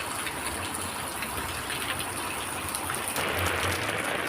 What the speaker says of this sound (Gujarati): પછી આજે વરસાદ હતો બહુ ધોમ.